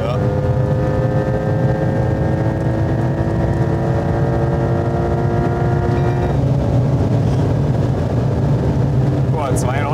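A Porsche Turbo at very high speed, over 300 km/h, fills the cabin with a loud, steady engine and wind roar; one tonal whine holds then drops partway through, with voices talking over it.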